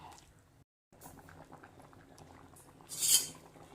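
Potato masala curry boiling in a pot gives a steady, close bubbling simmer, briefly cut off near the start, then swelling into a louder burst of bubbles toward the end.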